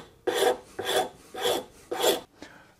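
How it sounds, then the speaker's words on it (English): A pattern maker's rasp files the wooden body of a hand plane in five even, scratchy strokes, each about half a second long with brief gaps between. The rasping is close and clear, with no talking. "I've switched to the pattern maker's rasp now,"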